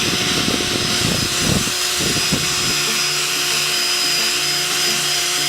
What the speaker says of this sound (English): what I'll probably do is use something like the wheel